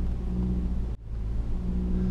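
A 2015 Mitsubishi Outlander Sport engine hums at around 2000 RPM while crawling off-road at about 5 mph, a steady close rumble with one brief dip in the middle.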